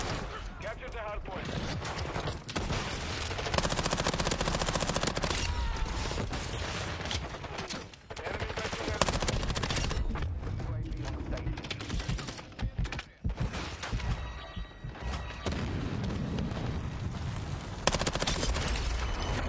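Dense, continuous gunfire with bursts of automatic fire and rocket explosions from a Call of Duty multiplayer match, loud and sustained throughout with brief dips, while a player talks over the action.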